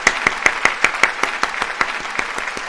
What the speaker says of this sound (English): here's Shia LaBeouf applauding you.